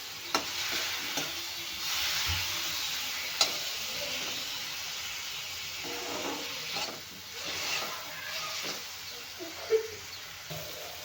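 Tomatoes roasting in hot oil for a carrot-beetroot green chilli chutney, giving a steady close sizzle and hiss with occasional stirring scrapes and small pops, no voices.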